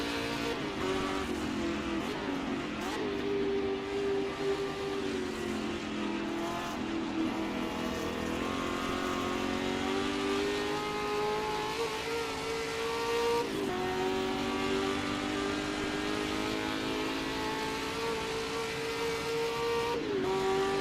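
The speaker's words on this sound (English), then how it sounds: "Cars sound wonderful as they're accelerating out of the source." Racing car engines in the Assetto Corsa video game drone loudly and continuously, including a Ford GT40 in a 1966 Spa race, the pitch climbing through gears with periodic shifts as the cars accelerate.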